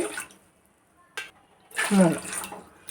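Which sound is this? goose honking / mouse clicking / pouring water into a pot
pouring water into a pot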